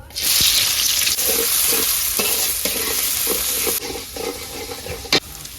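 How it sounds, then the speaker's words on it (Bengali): Chopped onion dropped into hot oil in a pan for a village taro curry, giving a steady loud sizzle and frying hiss with faint stirring scrapes throughout, no talk. "পেঁয়াজ কুচি দিলাম"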